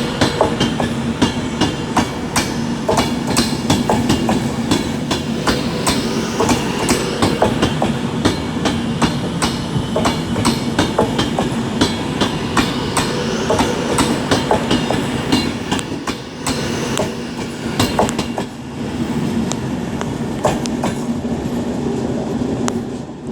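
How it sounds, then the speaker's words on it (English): A Pendolino train rumbles past up close over points, with dense clattering wheel clicks and rattles as it crosses track joints, loud and continuous throughout. "I just love that sound when the Pendolino's going over the points"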